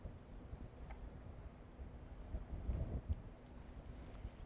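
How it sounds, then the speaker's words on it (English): Wind gusts outdoors in Port Aransas ahead of a hurricane, a low, rumbling buffet of air against the microphone that swells and subsides, fairly faint with a stronger surge near the middle. "it is pretty windy out here in Port Aransas"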